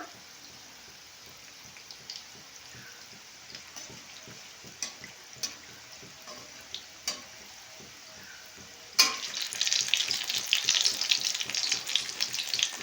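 Flatbread frying in a pan over a low flame: faint crackling and soft ticks at first, then a sudden louder, bright sizzle that continues to the end.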